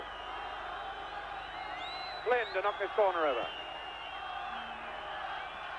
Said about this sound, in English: Crowd still buzzing with the excitement of that shattering first-minute goal